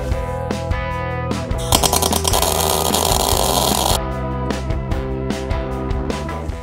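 Tack welding on steel unibody frame stiffeners for a Jeep XJ: a loud crackling, buzzing burst of arc welding runs steadily for a couple of seconds, with shorter sputtering bursts and clicks before and after over a constant shop hum.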